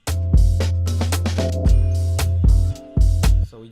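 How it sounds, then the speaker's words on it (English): Drum fill built in a mixing program for a lockdown mix, loud and close with no talk: punchy kick-like hits and crashy bursts repeating in a steady pattern of about five strikes over a sustained low tone. "So we just made our own little drum fill there."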